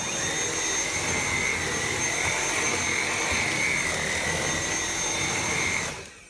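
A Dyson V7 cordless vacuum runs on its normal setting over carpet, producing a loud, steady whine and rush of air that holds for about six seconds, then winds down sharply at the end.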